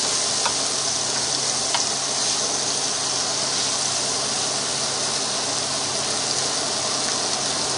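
A lemon pepper Cornish hen sears in a pan, giving a steady, dense sizzling hiss with a couple of faint ticks, close and constant with no talking.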